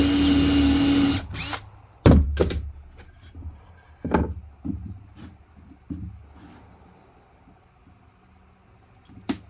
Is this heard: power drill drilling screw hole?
yes